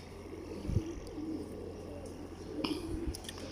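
Ferozpuri pigeons coo in low, soft murmurs at moderate distance, steady and continuous over a faint background hum, with a few brief louder thumps.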